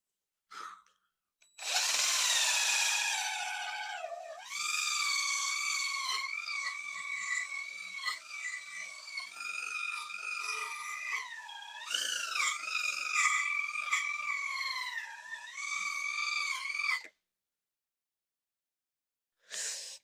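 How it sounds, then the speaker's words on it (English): A power tool whirs steadily while cleaning surface rust off the ignition coils and flywheel of a Scag zero-turn mower engine, a high whine with shifting pitch running about fifteen seconds in bursts, close and loud with no talking. "I'm gonna clean up the coils and the flywheel real quick"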